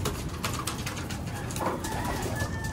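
Pigeons cooing softly in the background, repeated low coos over steady outdoor noise.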